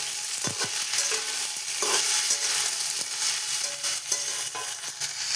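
Flat beans, potato, nigella seeds and garlic sizzle in a pan, giving a steady, close frying hiss with occasional stirring scrapes and light taps.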